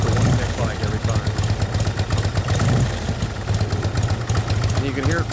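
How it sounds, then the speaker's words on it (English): A 1956 Harley-Davidson FLH with extra compression and a heavier cam idles close by in a loping, uneven rhythm, its exhaust popping now and then, while someone talks over it. "And you can hear it pop a little out of the exhaust, that extra compression, a little heavier cam, FLH cam."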